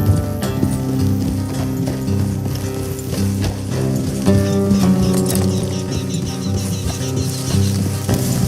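Horses galloping together in Red Dead Redemption 2, a rapid continuous clip-clop of hooves close by, loud and steady throughout, layered over a low rumbling game score.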